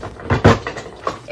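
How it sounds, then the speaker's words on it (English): A drawer slides out of a makeup vanity with a scraping rumble and a knock near the start, followed by softer rattles and a light bump, heard up close with no speech. "let me just take out the whole drawer"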